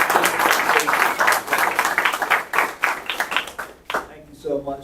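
Audience applause at a school board meeting: dense, brisk clapping from a modest crowd rings for nearly four seconds, then drops away as a voice begins speaking.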